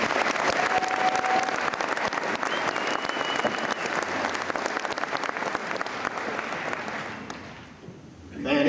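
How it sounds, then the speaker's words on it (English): A crowd at a state semifinal boys' basketball ceremony applauds the cheerleaders, sustained clapping that carries on steadily for several seconds and then thins out abruptly near the end. "they deserve a big round of applause as well."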